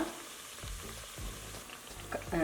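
Khara biscuit (nippattu) dough frying in oil over a low flame, a soft steady sizzle with a few faint bubbling pops and a light scrape near the end.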